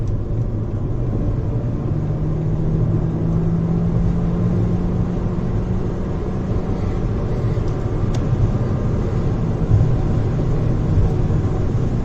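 A 2022 Jeep Renegade Sport T270 accelerates hard to overtake at highway speed, a steady, loud engine and road rumble with tyre roar holding constant throughout.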